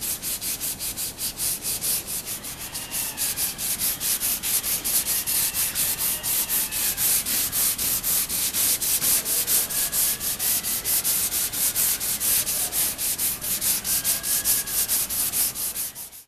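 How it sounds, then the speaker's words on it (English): Steady, close hand sanding of finish glaze body filler on a car panel with 150 grit sandpaper, a continuous rhythmic rasping scrub that keeps up without pause and fades out at the very end. "now I'm going to start sanding with the 150"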